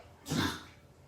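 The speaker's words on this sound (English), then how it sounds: "Somebody was coughing." A single short cough, close and moderately loud, rising sharply and trailing off quickly in a quiet room.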